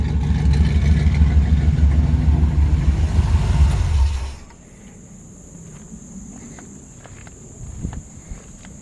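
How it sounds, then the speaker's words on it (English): A 1973 Chevrolet Camaro V8 with a mild cam idles loudly up close with a lumpy, rumbling beat, then shuts off about halfway through, leaving quiet outdoor ambience with crickets and a few light footsteps. "Sounds like it's got a mild cam in it."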